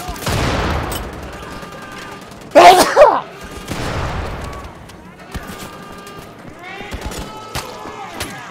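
A grenade detonates in the shooter Wolfenstein: The Old Blood with a loud, abrupt blast near the middle, set among scattered gunfire bursts and other in-game combat noises.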